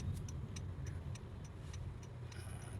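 A 2015 Honda HR-V on a road test after an ABS module replacement, heard from inside the cabin as a low, steady engine and road hum, with faint regular ticking over it.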